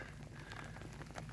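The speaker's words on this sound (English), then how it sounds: "It's starting to rain hard." Heavy rain starts falling outdoors during a trapping outing, a dense, steady patter of drops hitting nearby surfaces, faint and continuous with no voices.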